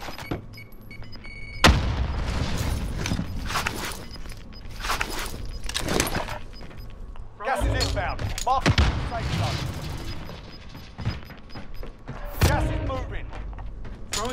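Explosions from incoming fire in the video game Call of Duty Warzone (Cold War): several loud, booming blasts land a few seconds apart amid gunfire and in-game commotion, with voices talking throughout.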